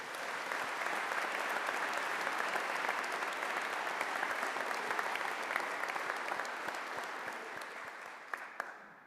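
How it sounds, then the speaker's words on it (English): Sustained applause from a large audience at a military commissioning ceremony, steady dense clapping that carries on throughout and thins slightly toward the end, with no talking over it. "Please give a round of applause here."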